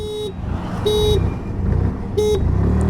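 Three loud horn honks from a 2026 TVS Jupiter 110 or Hero Destini 110 scooter sound close by, the first brief, the next two longer, spaced over a steady engine rumble.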